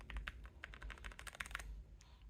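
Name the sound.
typing on Kisnt mechanical number pad keys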